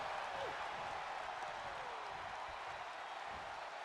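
Virtual wrestling crowd in WWE 2K22 cheering during a women's match, a steady roar of applause and crowd noise filling the arena throughout, moderately loud and continuous.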